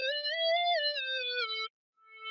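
A short bright synth tone, reversed in FL Studio 20, with a wavering swell, held for over a second, then a brief pause before a faint tone creeps back in.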